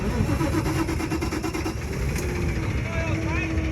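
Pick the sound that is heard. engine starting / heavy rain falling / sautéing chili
engine starting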